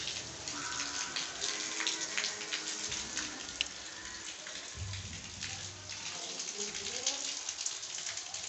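Rain pattering steadily outdoors on a rainy festival day in India, a soft continuous patter of drops with faint distant voices and brief low rumbles underneath.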